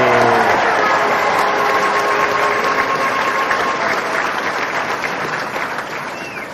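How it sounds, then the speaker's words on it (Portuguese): Brief applause closes a literature and arts podcast episode, a dense wash of clapping that fades gradually, with a faint voice at the very start. "Nossas palmas"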